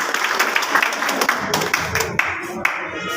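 Audience applause at a Hindi-language training seminar, dense steady clapping from a crowd with a few sharper claps standing out, continuing for a few seconds under a faint voice.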